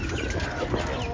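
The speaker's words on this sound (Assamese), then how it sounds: "সেইজনী মুৰ্গী নেকি" A local hen clucks briefly and close by in a small home menagerie among trees, with a soft noisy background.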